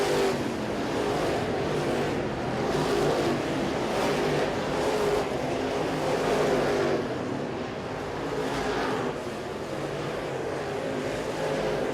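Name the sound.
race cars racing at a short track feature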